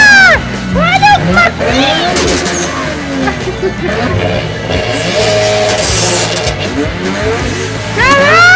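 A car in the video game GTA 5 accelerates and its engine rises in pitch through repeated revving sweeps, with tire squeal and game effects, while excited voices talk loudly over it throughout.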